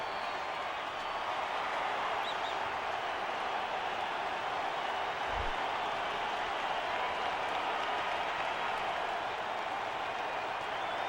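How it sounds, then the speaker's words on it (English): Baseball crowd noise from the MLB 11: The Show video game forms a steady, even roar of cheering and clapping that holds at a constant level throughout, with no voices on top. "Crowd is going crazy."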